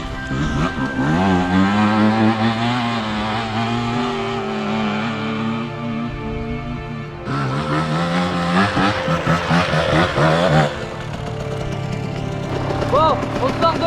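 KTM Freeride E electric enduro motorcycle pulling away and riding on a dirt circuit, its motor whine rising and falling in pitch, with a sharp surge midway; people talk over it nearby.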